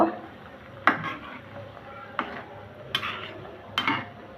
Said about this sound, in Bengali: আলতোভাবে একটু নেড়ে দিব।